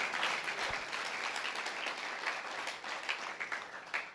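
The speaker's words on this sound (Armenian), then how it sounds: "Ծափարեք Տիրոջը" Church congregation clapping in praise, a dense, sustained patter of many hands at moderate distance, steady throughout.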